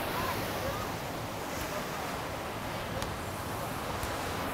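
Ocean surf at Praia Brava beach in Brazil during a surfing event, a steady broadband wash of waves with wind noise, continuous and fairly distant.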